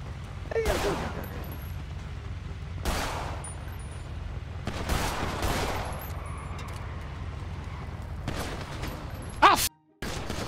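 Bursts of gunfire in GTA, several loud broadband volleys spaced a couple of seconds apart with a sharper close shot near the end, set against a low game-ambience rumble and occasional talk.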